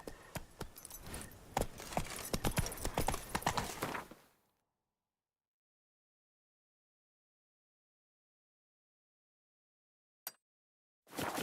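A horse's hooves clip-clop in a fast, dense run while riding in The Witcher 3, loud for about four seconds before cutting to silence, then a brief click and a return of the hoofbeats at the end.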